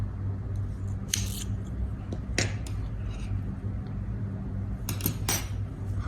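Crochet scissors snipping the yarn end off a finished crocheted square, a few short, close metallic clips over a low steady background hum.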